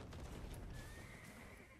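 A horse in a video game gives a quick, faint whinny over steady background noise, with a thin drawn-out tone in the middle.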